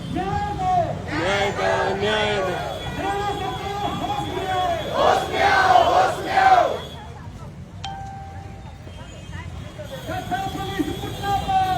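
A protest crowd in Kaithal shouts slogans in loud, rhythmic chanted bursts, several voices together, then a pause and a renewed chant.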